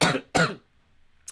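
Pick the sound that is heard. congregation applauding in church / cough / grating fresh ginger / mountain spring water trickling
cough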